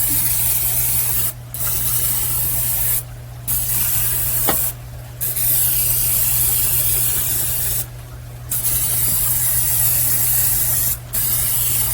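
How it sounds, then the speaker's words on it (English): Several bursts of cooking spray hiss into a crock pot, each a second or two long, separated by short pauses, close and fairly loud over a steady low hum. "we're going to spray our crock pot"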